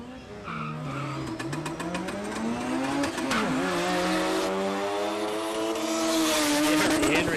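At Palmyra Dragway, Terry Smith's little Mazda Ute drag races: a loud, steady engine roar with pitch sweeping up and down as it revs and accelerates, continuous for the whole stretch, with a commentator talking over it.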